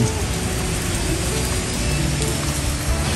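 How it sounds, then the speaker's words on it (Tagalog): Rain falls steadily as a dense, even hiss with a low rumbling undertone, close and fairly loud, with no voices. "Umuulan guys."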